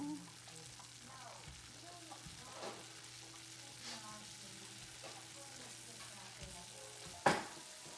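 A low, steady sizzle of ground beef and onions frying in a pan with occasional stirring scrapes and one sharp clatter near the end.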